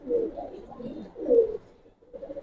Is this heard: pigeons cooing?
yes